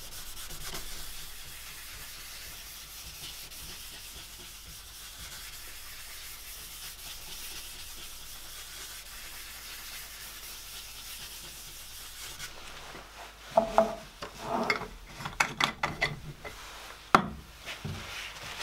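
Paper towel wiping finishing oil across a wooden surface, a steady soft rubbing hiss that continues evenly, then turns into louder, irregular scuffing strokes near the end.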